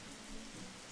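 Rain from a video game's weather setting, turned to about half intensity, makes a faint, even hiss with no breaks or voices over it.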